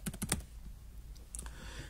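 A few quick keystrokes tap on a computer keyboard while a file name is typed, a short burst of close, soft clicks, then a brief pause and one or two more taps.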